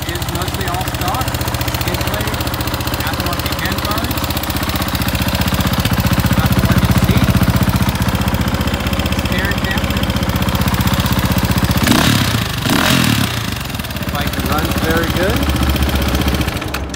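A 2005 KTM 450 EXC dirt bike idles steadily nearby with a loud, continuous thumping drone, and a voice talks over much of it.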